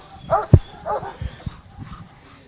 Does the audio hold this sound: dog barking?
yes